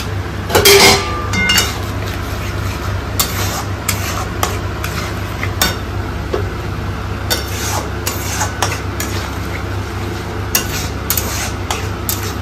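A spice paste is stirred and fried in a pan for a potato gravy, with a spoon scraping and clinking against the metal in irregular strokes over a steady background hiss and sizzle.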